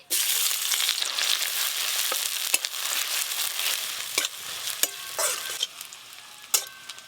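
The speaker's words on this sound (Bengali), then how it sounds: "পেঁয়াজ কুচি তো প্রথমেই ভালো করে ভাজা ভাজা করে নিলাম" Chopped onion frying in mustard oil, with a steady bright sizzle throughout and intermittent clicks and scrapes of a spatula stirring in the pan, close up with no voices.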